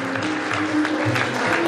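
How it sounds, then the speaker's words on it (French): An audience at a Moroccan-Senegalese fashion show event applauds loudly and continuously, a dense wash of clapping heard from within the crowd. "On l'applaudit très très fort"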